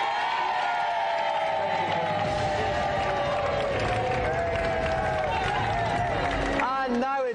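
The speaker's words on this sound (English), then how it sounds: "Please, give a round of applause." Studio audience on a video game television show bursting into applause and cheering for a Golden Joystick winner, a loud continuous roar of clapping and whoops with a presenter's voice sliding in and out above it.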